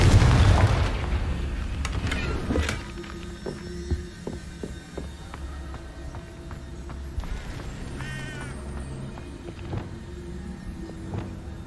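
A Confringo fire spell bursts in Hogwarts Legacy as a loud, deep explosive boom that decays over a couple of seconds into a low rumbling hum, with faint scattered game effects and chimes afterward.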